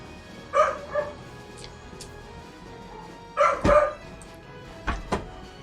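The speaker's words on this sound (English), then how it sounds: "I'm trying really hard to ignore my dog, but he's being loud." A pet dog at home barks loudly in short bursts, a pair of barks early, a louder cluster midway and another pair near the end, heard close with no talking over it.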